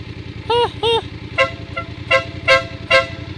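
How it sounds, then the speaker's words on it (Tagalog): A Voge DS900X motorcycle horn honks in short blasts: two longer toots, then a quicker series of short beeps, over a steady idling engine. "Busina natin. Wow, medyo truck na truck ah."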